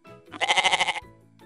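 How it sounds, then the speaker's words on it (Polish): A goat bleats once in a loud, wavering, pulsing cry of about half a second, standing alone against quiet soft background music. "Koza."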